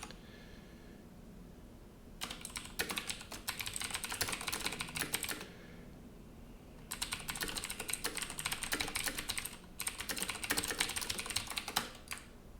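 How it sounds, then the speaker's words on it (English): Fingers type on a computer keyboard in two bursts of rapid, close clattering keystrokes, separated by a quiet pause, with a brief stop before the final few taps. "while I was typing"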